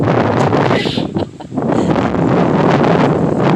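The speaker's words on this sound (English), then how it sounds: "it's another windy day" Loud wind buffeting a microphone, rough rumbling gusts that dip briefly before roaring back up.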